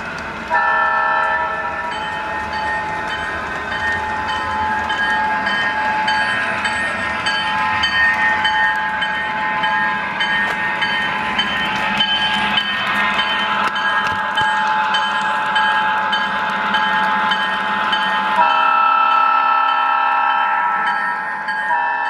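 A Lionel FasTrack model train pulling MTH spine cars hums and rattles steadily along its track for a long stretch, with a constant whine of motors and a sudden drop in sound near the end.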